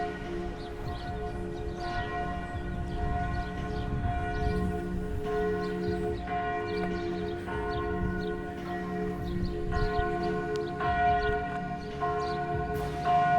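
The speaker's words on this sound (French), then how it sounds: "T'entends les cloches?" Church bells ring in a steady, repeating series of resonant strikes, fairly distant, with no talking.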